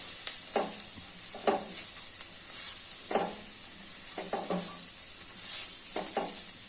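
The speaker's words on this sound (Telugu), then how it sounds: "మధ్యలో బాగా కలుపుకోవాలి, లేకుంటే అడుగంటుతుంది" Spiced food frying and being stirred in a steel pan for a bread-piece upma with fenugreek, a steady close sizzle with repeated scraping strokes of a spoon across the pan bottom, no talking.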